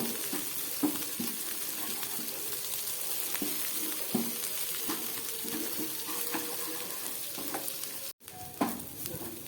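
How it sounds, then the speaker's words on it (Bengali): Gram flour (besan) fries with spices in a pan for a potato, cauliflower and pointed gourd vegetable dish. A steady close sizzle runs throughout, with irregular scraping stir strokes and a brief cut near the end. "আমি এটা একটু ভালো করে ভেজে নিচ্ছি বেসনটাকে।"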